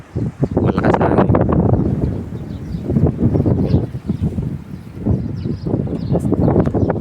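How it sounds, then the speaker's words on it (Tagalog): Strong gusts of wind buffet the microphone in loud, rumbling bursts that rise and fall, with no voices, in a bottle gourd garden. "Lakas hangin dito, lakas."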